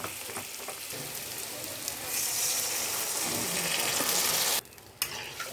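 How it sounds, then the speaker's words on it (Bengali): Water splashes into a hot pan, the frying hiss swelling into a louder, rushing sizzle that cuts off suddenly, followed by a brief clunk. "এবার হালকা করে একটু জল দেব।"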